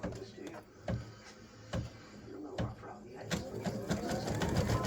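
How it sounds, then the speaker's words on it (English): An embroidery sewing machine stitches a freestanding-lace candy cane earring, giving a steady run of quick mechanical stitching pulses with sharper clacks at intervals, close by and moderately quiet. "Let it take a few stitches"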